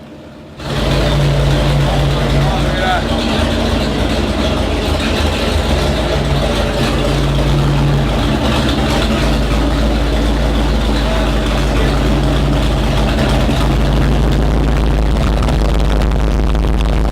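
A Ford 351 Cleveland V8 engine runs on a dynamometer at a steady, constant loud drone, deep rumble throughout with no pauses.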